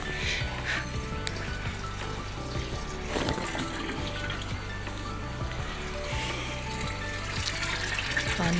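Tap water runs steadily into a container at home, a continuous near gushing stream with faint background sounds and a brief clatter partway through.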